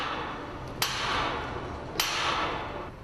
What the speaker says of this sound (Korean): 일단 눈앞의 망치질에 최선을 다할 수밖에.